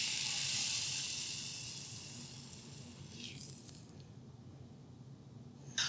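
Rosette cookie batter on an iron hisses loudly in hot oil, a bright sizzle that fades over a few seconds and then drops away abruptly, leaving a quiet background and a small clink at the end.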